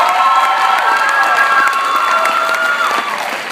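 An audience at the Mr. Heritage 2015 pageant cheers and claps in a steady, loud wash of crowd noise with some shouting, fading slightly near the end.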